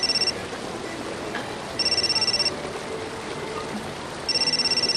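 Telephone ringing in a room, an electronic trilling ring in three evenly spaced bursts, loud and close over a steady background hiss.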